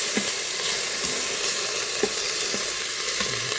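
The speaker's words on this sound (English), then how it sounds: "We're going to saute these bad boys." Butter and onions sizzle in an Instant Pot Nova+ on saute, a loud continuous frying hiss with occasional soft stirring clicks and scrapes, close up and with no talking.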